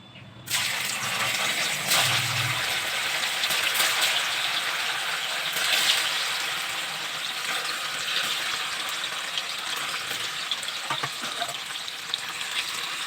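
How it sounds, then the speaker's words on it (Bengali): Paneer pieces frying in hot refined oil over a lowered flame, a loud, steady, close sizzle that starts abruptly and runs continuously, with a few faint stirring clinks. "এবার কিন্তু পনিরগুলো ভেজে নেব প্রথম পনিরগুলো দিয়ে দিই"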